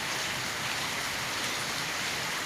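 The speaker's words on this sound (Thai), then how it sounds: "ฝนตกก็ได้ย้าย" Steady rain falling outdoors, an even, dense hiss of drops on surfaces that continues unchanged from start to finish with no voices over it.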